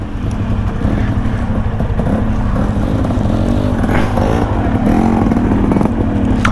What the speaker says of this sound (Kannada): ಎರಡು ಬೈಕ್ ಬರ್ತಾ ಇಲ್ಲ, ಒಂದು ಸೂಪರ್ ಮೀಟರ್ ಮತ್ತು ಇದು RS 200.